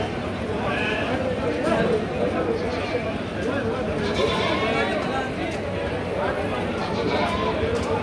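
Goats bleat repeatedly amid a busy goat market in Ajmer, including a Hyderabadi cross female, with constant nearby chatter from traders over the animal calls.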